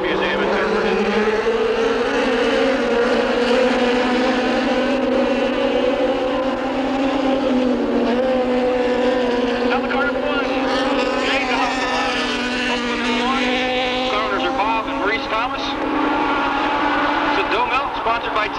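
Race car number 77 roars around the Terre Haute track during a 1998 feature race, a loud continuous engine drone rising and falling in pitch as it passes, with other cars blending into the roar.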